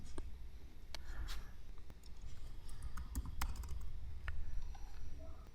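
A computer keyboard being typed on in scattered, sharp key clicks of varying loudness, close but quiet against a low background hum.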